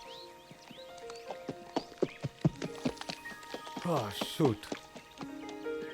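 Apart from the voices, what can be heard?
wild mustang horses galloping and neighing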